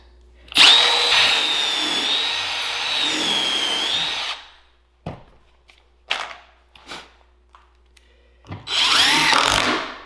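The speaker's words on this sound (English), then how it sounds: "I set up my drill press fence and drilled recesses in the ends of the stretchers" A drill press whines steadily for several seconds while drilling recesses in the ends of wooden desk stretchers, then stops; scattered knocks and handling clatter follow before the drill spins up again briefly.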